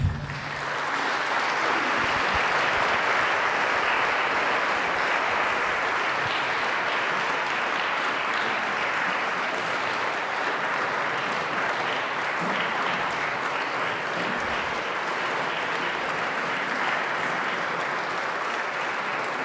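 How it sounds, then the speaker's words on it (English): Sustained loud applause from a large audience after a speech at a live gathering, dense even clapping filling the whole stretch without pause, close and full. "Thank you for your applause"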